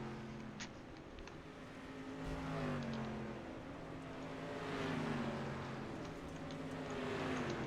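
Dirt street stock race car engine revving in a sim racing game at a Bristol dirt track, a steady droning roar with rising and falling pitch, moderately loud throughout.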